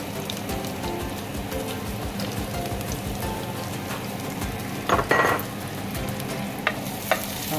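Garlic frying in a pan for chicken afritada, a continuous crackling sizzle with stirring scrapes and a few louder bursts of spatter, close by.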